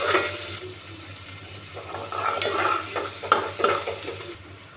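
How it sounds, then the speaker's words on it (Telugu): Onions going into a pan of hot oil with green chillies, a soft steady sizzle with scraping stir strokes and light clatter, close and moderately quiet with no talking. "ఇప్పుడు మనం దీంట్లో ఆనియన్స్ అయితే వేసుకోవాలి"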